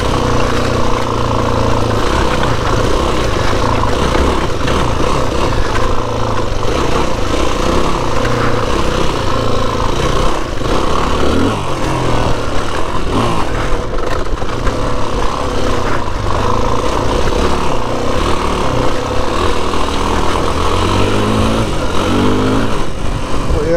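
A motorcycle engine hums continuously while riding along a rough, washed-out road over Parkamoor, a loud steady drone with a fluttering rumble and wind buffeting, sustained throughout.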